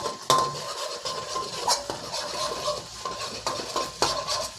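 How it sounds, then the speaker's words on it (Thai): Eggs being stirred and scrambled in a hot pan for a Thai stir-fried rice noodle dish, with a utensil repeatedly scraping and clattering against the pan over a steady low sizzle, close and moderately loud. "ใส่ไข่แล้วก็ให้เราคนเลยนะครับ คนเป็นไข่คั่วเลยนะครับ"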